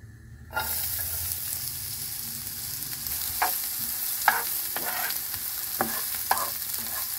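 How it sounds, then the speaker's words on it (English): Onion frying in oil with beans, a steady close sizzle that starts abruptly and holds evenly, broken by a few soft stirring scrapes and clicks. "fry in oil with the onion"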